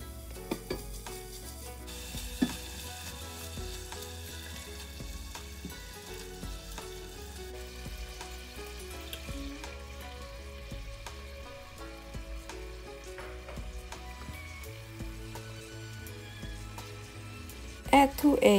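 Marinated pork browns in a pan with a steady, soft sizzle and occasional scraping stirs, close but fairly quiet, growing louder in a short burst at the very end.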